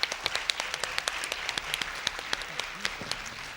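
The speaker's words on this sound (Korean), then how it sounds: "박수 한번 보내주시죠." Audience at a middle school debate final applauding, a thinner spread of distinct, sharp hand claps over a soft background of clapping, steady for several seconds.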